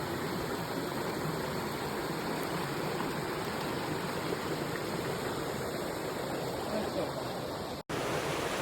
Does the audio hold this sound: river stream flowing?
yes